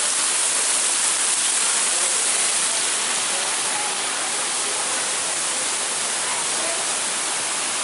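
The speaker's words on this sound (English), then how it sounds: "A thunderstorm indoors in the rainforest." Simulated indoor thunderstorm rain falls in a rainforest attraction, a dense, steady hiss of water that stays loud and unbroken throughout, with no thunder standing out.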